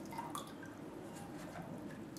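A dirty tissue is squeezed out into a jar of watercolour painting water, making faint, soft wet squishing and dripping sounds, quiet and close, with no talk.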